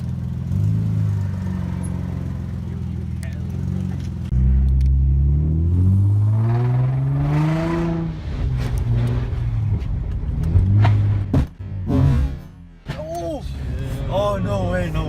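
Lowered Infiniti G35 on TruHart StreetPlus coilovers pulling out for a ride, with a steady loud engine rumble that rises and falls through revs, and people talking over it.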